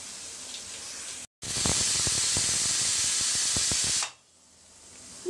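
A pressure cooker cooking chana dal vents steam in a loud, steady hiss lasting several seconds, cut off briefly near the start by a short gap, then stops abruptly and leaves a quiet background.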